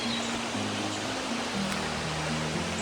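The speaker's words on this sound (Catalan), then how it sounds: "I al costat del riu." A river flows steadily beside a damp forest track in Romania, giving a constant broadband rush of water that stays close and even throughout, with faint low engine hum beneath.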